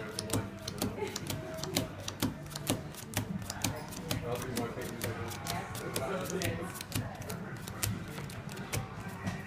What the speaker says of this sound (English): I want you to deal the rest of these cards face up here